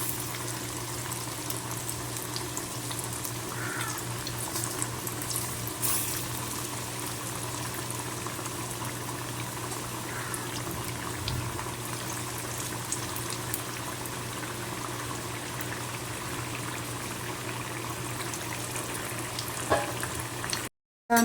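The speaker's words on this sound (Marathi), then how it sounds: "आता फुगून वर यायला लागले असे आपल्याला भजी तळून घ्यायचेच होते" Potato bhaji fritters deep frying in hot oil, a steady close bubbling and sizzling that holds at an even level throughout, with no voices.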